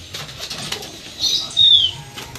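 Pigeons flap their wings nearby in a short, soft burst of fluttering, with a brief bright whistling swish near the end, heard over quiet outdoor background.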